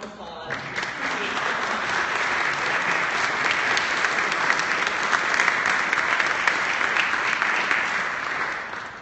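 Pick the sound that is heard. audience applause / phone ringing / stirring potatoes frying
audience applause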